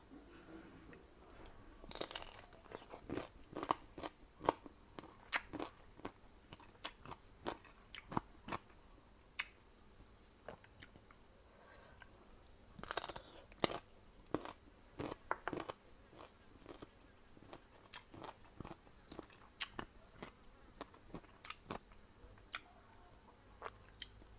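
Sour mango eaten with fermented-fish chili paste produces close, crisp bites and wet chewing in an irregular rhythm, with sharper crunches standing out over a quiet background.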